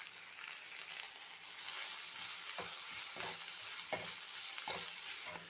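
Sliced onions with salt frying in a pan for an egg, mango and tomato curry: a continuous close sizzle broken by a few scraping stirs of the spatula every second or so.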